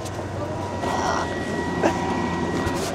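The engines of a small ten-seat airplane start up inside the cabin, a steady, loud rumble and drone that holds evenly from start to finish, with no talking.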